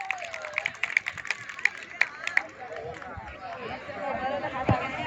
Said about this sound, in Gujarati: તો તેમને જોરદાર તાળીઓના ગડગડાટથી વધાવીએ